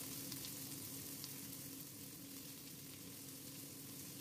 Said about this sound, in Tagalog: Isunod naman na igisa ang sibuyas hanggang lumambot